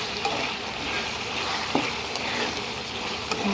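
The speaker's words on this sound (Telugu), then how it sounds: "మురుగులాడుతుందండి కర్రీ చూసుకుంటేనే" Prawn curry with sambar powder sizzles steadily in a pan while a spoon stirs it, giving a continuous close frying hiss with occasional soft scraping knocks.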